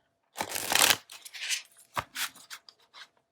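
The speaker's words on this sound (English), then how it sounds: "I think one more shuffle will be good." Tarot cards being shuffled by hand, a loud riffling burst followed by several shorter, softer shuffling and sliding strokes, close and without talk.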